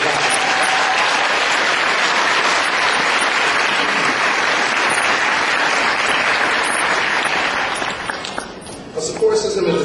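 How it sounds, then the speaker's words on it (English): Commencement crowd applauding graduates' families, loud continuous clapping that fades out near the end as a voice begins speaking. "I know Don already had everybody give a round of applause to the family, but let's do it again"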